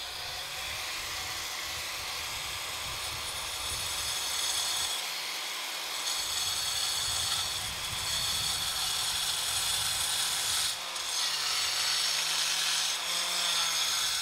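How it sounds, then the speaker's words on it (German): An angle grinder cuts into a sandstone block being carved into a sculpture, making a steady, loud, continuous abrasive whine and grind with slight shifts in intensity and no voices. "Als erstes benutzt die Steinmetzin die Flex. Mit der groben Säge schneidet sie mehrere Schnitte in den Stein."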